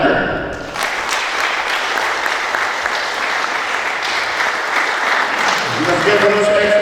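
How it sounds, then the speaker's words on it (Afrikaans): Dense, loud audience applause at an alumni sponsorship handover event, sustained clapping that runs for several seconds after a brief voice at the start, with talk returning near the end. "Kom ons klap lekker"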